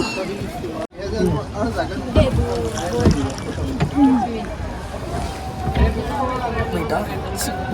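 Water sloshing and splashing around a slowly moving pedal boat on Nakki Lake, Rajasthan, with people chattering nearby and light wind noise throughout.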